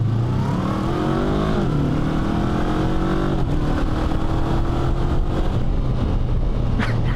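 A lightweight adventure motorcycle engine revs freely with the clutch pulled in, its pitch sweeping up and down in loud, close, continuous surges, ending with a brief higher whine.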